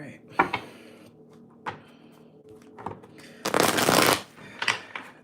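Tarot cards shuffled by hand in a few quick riffling bursts, the last long and loud, with soft clicks between and no speech.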